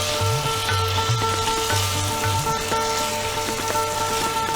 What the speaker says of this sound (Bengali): মশলাটা কষে এলেই ভাজা মাটনটা মশলার মধ্যে দিয়ে দিতে হবে